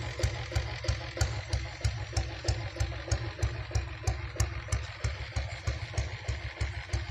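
Royal Enfield diesel Bullet motorcycle, original company diesel with green paint and chrome, idling in a steady, loud, evenly spaced thumping beat up close, with no talk over it.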